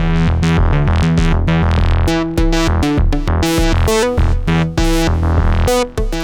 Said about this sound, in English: You can hear the random voltage working on the open right now.